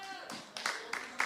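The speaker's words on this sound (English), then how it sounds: "Now, hold your applause." An audience at a catered event's closing remarks and thanks breaks into brief applause, a short burst of scattered clapping mixed with a voice talking over it.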